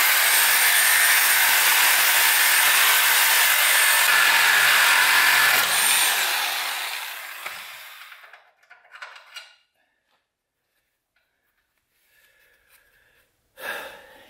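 Power cutting tool grinding through a seized bolt and a piece of Ford Ranger frame steel, a loud continuous high-pitched screech for about six seconds that winds down into silence, followed by a few faint knocks and a short clatter.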